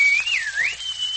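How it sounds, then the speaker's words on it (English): A boy whistles a short, clear, wavering tune, gliding down and back up before holding a steady note, close and alone in a quiet domestic scene from a radio drama. "Oh, your whistling goes right through my head"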